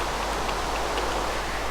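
Steady rain in the Minecraft video game makes an even, soft hiss of falling drops that continues without break and without speech.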